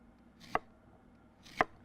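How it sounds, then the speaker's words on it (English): Knife cutting yams into quarter-inch thick slices on a board: two crisp, evenly spaced chops, close and clear against a quiet background. "take your yams, cut them in 1/4-inch thick slices"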